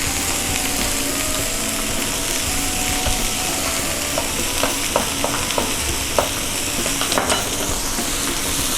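Constant sizzling crackle from beef short ribs browning in a hot pan, with scattered clicks and scraping stirs sounding close by, no talking.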